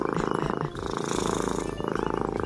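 Cat purring close up, a steady rhythmic rumbling pulse with brief breaks, loud and continuous over a few seconds.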